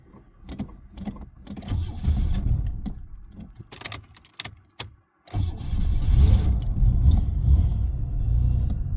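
A car's engine cranks and catches after a jangle of keys and clicks, then settles into a steady close idle rumble.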